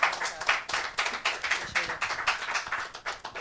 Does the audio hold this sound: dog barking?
no